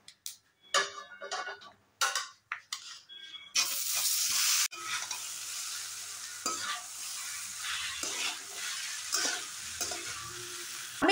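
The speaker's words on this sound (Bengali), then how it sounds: "এবার আমি ওই কড়াই থেকে এই কড়াই ঢেলে নেব" A fried coconut mixture is poured from a small wok into a larger one, opening with loud scraping and clanks, then a steady hot sizzle with intermittent stirring, no voices.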